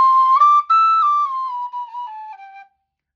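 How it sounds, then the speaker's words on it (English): A Rudder G tin whistle plays a short melody of clear, sustained high notes that step up and then gently down, close and loud, alone with no talk, ending in silence. "this was a Rudder G. Very good whistle."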